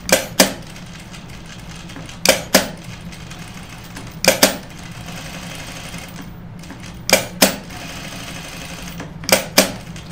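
A home sewing machine stitches through denim jeans in a steady running drone, punctuated every two seconds or so by paired sharp clicks, fairly close and with no talk.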